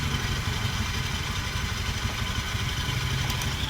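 A Honda Vario 125 scooter engine runs steadily at a low idle with a rough, uneven mid-range chug and faint clatter, sounding close and continuous throughout without any talking.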